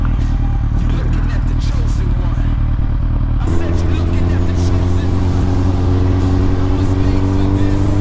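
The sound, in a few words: Suzuki GSX-R1000 motorcycle engine revving on test ride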